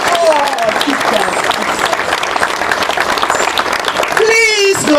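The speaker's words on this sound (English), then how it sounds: "Please give a clap to your teacher." An audience claps loudly and continuously for teachers at a conservation talk, a dense wash of applause with voices and cheers mixed in.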